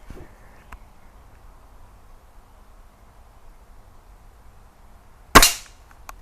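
An air gun pellet strikes a metal target plate during outdoor target shooting: one sharp, loud metallic impact stands out after a stretch of quiet background, with a faint tick earlier on.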